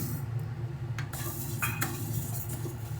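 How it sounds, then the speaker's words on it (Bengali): Moong dal dry roasting in a hot wok, a soft rustling sizzle with light scrapes and clinks of stirring, quiet and close, no speech. "আমরা এই শুকনো খোলায় প্রথমে ডালটাকে ভেজে নেব।"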